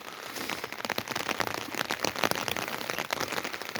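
Steady rain falls in a village in Diyarbakır's Çüngüş district in autumn, a dense, continuous close patter of drops striking surfaces and an umbrella, with no voices.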